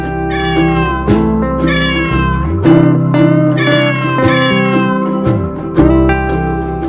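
A cat meows several times in a row, loud and close, each call drawn out and rising and falling in pitch.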